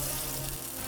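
Butter melting into olive oil in a sauce pot over low heat, giving a steady, soft frying sizzle that runs continuously through one short stretch.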